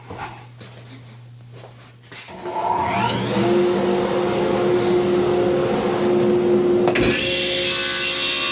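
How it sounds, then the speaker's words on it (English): A workshop dust collector spins up and roars steadily with a sustained broadband whoosh and a hum, loud and continuous, while a squaring sled is being built. "Turn on the dust collection."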